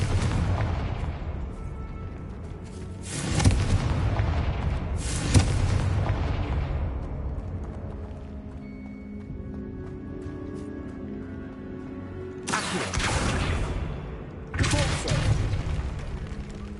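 In Hogwarts Legacy, the Confringo fire spell sets off loud blasts: two booming bursts close together, a quieter rumbling lull, then two more explosions near the end, each with a decaying roar.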